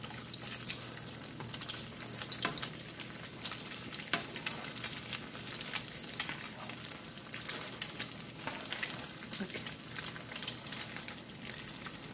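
Mashed potato cutlets (katlesi) fry steadily in a pan, a continuous crackling sizzle with scattered sharper pops, close and moderately loud, with no talking.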